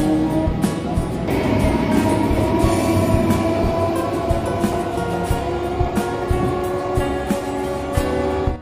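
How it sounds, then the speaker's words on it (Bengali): A train pulls into Naihati Junction station, with a steady loud rumble of rolling wagons and rhythmic clicks of wheels over rail joints throughout. "নৈহাটি জাংশনে ট্রেন ঢুকে গেছে"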